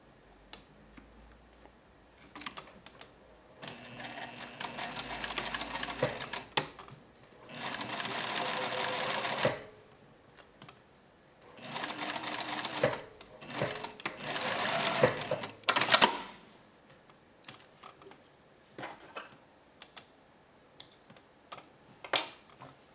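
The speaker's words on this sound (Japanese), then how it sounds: "見返しの下端を縫います。" A sewing machine stitches the lower edge of a dress facing in several bursts of rapid mechanical clatter, each a few seconds long, separated by quiet pauses and small clicks of handling the fabric.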